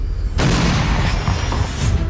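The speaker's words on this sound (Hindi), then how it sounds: "एक धमाके के साथ ही विस्फोटक की पूरी खेप नष्ट हो गई।" A single loud, deep blast destroys a car laden with explosives in Pulwama, bursting suddenly and rumbling on heavily without pause.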